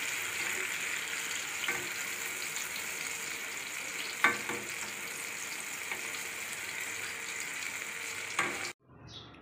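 Jackfruit puris deep-frying in hot oil give a steady, dense sizzle throughout, broken by a few soft clinks, and the sound cuts off abruptly near the end.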